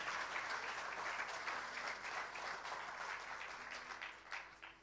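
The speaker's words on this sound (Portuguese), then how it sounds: "Você pode dar um aplauso bem forte ao Senhor?" Applause from a church congregation during a worship service, a dense steady wash of many clapping hands that fills the space and tapers slightly toward the end, with no voices standing out.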